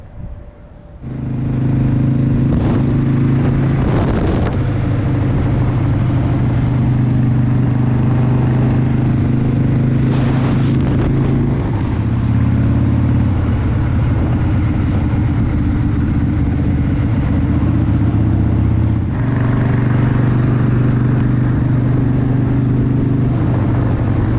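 A Harley-Davidson FXR motorcycle pulls away on a long-distance ride, its engine a loud, steady low rumble that shifts pitch at a couple of gear changes, with wind noise throughout and no talking.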